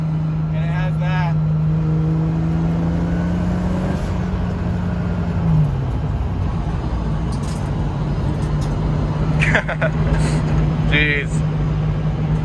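Loud turbocharged car engine drone runs throughout with a rising whine as it accelerates and builds boost, while people talk and exclaim over it.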